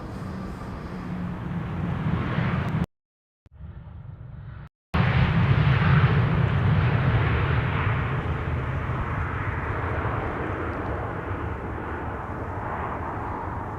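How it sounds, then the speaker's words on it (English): A Lufthansa Airbus A320 arriving from Munich at Amsterdam Schiphol rumbles past with a steady low engine roar, briefly cut out by two short gaps, then swelling louder before easing off slightly, with no talk over it. "This is Lufthansa flight 2304 arrival from Munich. It's an A320."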